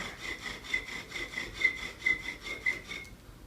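A willow bow drill spindle rubs against the hearth board in a steady back-and-forth rhythm, with faint raspy strokes and occasional small squeaks before it stops.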